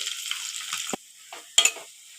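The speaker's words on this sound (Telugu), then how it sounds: "ఇందాక ఉడికించి పక్కన పెట్టుకున్నాం కదా చికెన్ పీసెస్, ఆయిల్లో వేసుకొని ఎర్రగా వచ్చేంత వరకు వేపుకోవాలి." Boiled chicken pieces frying in hot oil, a bright, close sizzle for about a second, then a sharp knock, a quieter pause and two more loud sizzling bursts.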